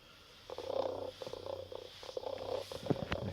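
A Joy For All robot toy cat purrs as its belly is stroked, a soft, rhythmic mechanical purr with a low motor hum, pulsing in short bursts close by, with no voices.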